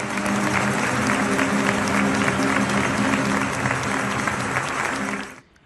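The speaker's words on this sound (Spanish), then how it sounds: "acompañados por una ovación" A large crowd's loud, dense ovation of clapping and cheering at an outdoor celebration in Caracas honoring José Gregorio Hernández, held steady for several seconds and then cut off abruptly.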